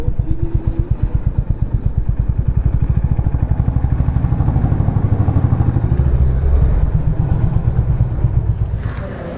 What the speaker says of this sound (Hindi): अब बाइक घुसाते हैं सीधा अंदर